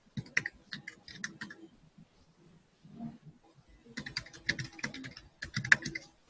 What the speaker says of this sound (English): I'll just type it here.